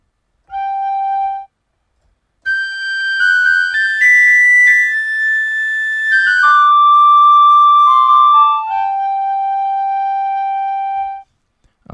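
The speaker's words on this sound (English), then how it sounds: "So high G whistle," A sampled orchestral high G whistle plays sustained, pure tones in a short, clean melodic line, held notes stepping up and then gliding down, loud and dry with nothing else behind it.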